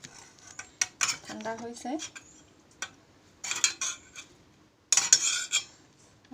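Metal utensil scraping and clinking against a plate as cooked leafy greens are served out, several sharp irregular clatters and scrapes up close, with brief speech in between.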